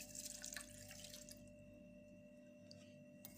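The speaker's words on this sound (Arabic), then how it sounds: "وغادي نضيف الماء" Water trickles and drips faintly into a container during preparation of a home herbal remedy for cough and chest pain, with a thin, steady tone running underneath.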